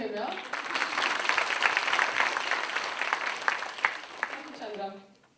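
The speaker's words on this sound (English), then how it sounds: "A round of applause for him, yeah?" A panel discussion audience breaks into a full round of clapping that holds steady and then fades, with a speaker's voice heard before and after it.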